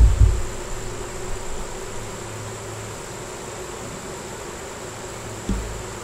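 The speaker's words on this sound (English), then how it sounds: "These are little bees that can't fly, so they'll go in there, cause no problem." Young bees too new to fly hum at a hive, a low steady buzz close by with a couple of brief knocks at the start and near the end, no one speaking.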